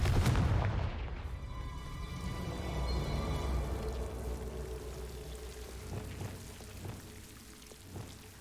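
A fiery explosion spell cast in a wizard video game bursts with a loud crack at the start, then a long rumbling, crackling decay trails off with scattered small debris pops and a final thump.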